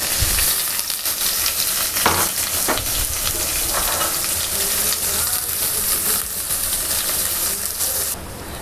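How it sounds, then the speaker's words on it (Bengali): Onion, bay leaf and garam masala frying in hot oil for a beef curry, a loud steady sizzle with occasional scrapes and stirring knocks, close by, easing off at the very end. "আমাদের পেঁয়াজ, তারপরে আমাদের গরম মশলা, এগুলো মোটামুটি ভাজা হয়ে গিয়েছে"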